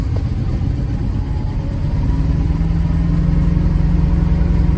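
A car engine idles steadily just after a cold start in extreme cold of about -52°C, with a loud, rough, low rumble that runs on without a break and no voices.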